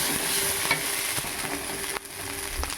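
Cabbage and potato sizzling as they fry in a pan for a Bengali chorchori dish, a steady bright hiss broken by a few scraping stir strokes from a spatula, close up with no talking.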